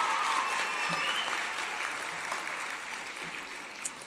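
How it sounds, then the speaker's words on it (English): Steady audience applause for an author at a teen press conference, a dense wash of clapping that stays loud and slowly tapers over a few seconds, with no talking. "Let's give a round of applause to Vashti."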